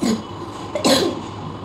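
Two hoarse, dry coughs from a patient with an allergic cough that brings up no phlegm, heard close and fairly loud in quick succession, alone without talk.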